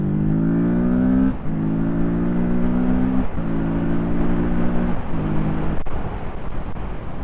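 A Kawasaki Z650RS motorcycle engine revs hard on a country lane, climbing in pitch through several strong pulls with brief dips between them, loud and close throughout.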